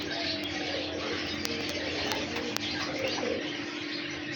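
Qasuri pigeons cooing softly and continuously, with small chirps scattered over a steady background hum.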